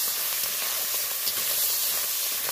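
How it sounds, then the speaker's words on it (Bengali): Shrimp fry in hot oil, producing a dense, even hiss and crackle that sounds close and stays steady throughout, with no talking. "তেল গরম হয়ে গেছে, তেলের মধ্যে দিয়ে দেবো আমি চিংড়ি মাছ। আর চিংড়ি মাছটা আমি ভালো করে ভেজে নেব।"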